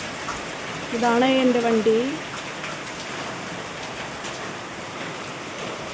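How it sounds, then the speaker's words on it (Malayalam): Heavy rain falls outside as a steady, broadband hiss through the whole stretch, with a voice speaking briefly over it near the start. "നല്ല മഴ ഗായ്സ്, പുറത്ത് നല്ല മഴ"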